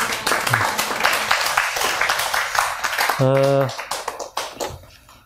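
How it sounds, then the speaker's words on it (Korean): Congregation clapping during a church service, close scattered claps running under a man's speech, with a sustained tone briefly cutting in near the end. "박수 한번 또 부탁드립니다."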